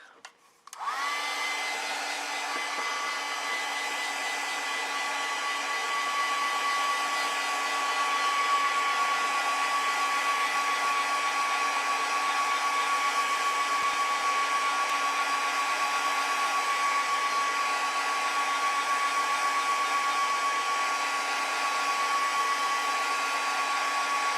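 A hair dryer switches on and then runs loud and steady with a constant whirring hum, used to dry black watercolor paint on a poppy painting. No one talks.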